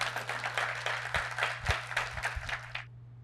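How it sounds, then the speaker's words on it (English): Audience applause for a panel speaker at a policy discussion, a burst of scattered, uneven clapping from a room over a low steady hum, stopping abruptly near the end. "Give him a round of applause."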